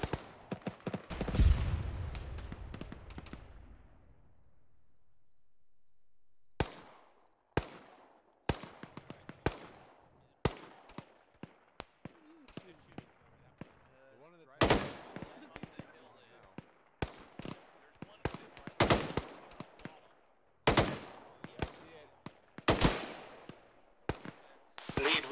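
Sharp rifle shots crack out one at a time with uneven gaps in an Arma military game, some loud and near, others fainter, echoing across the field, with a burst of rumbling explosion early on and voices talking.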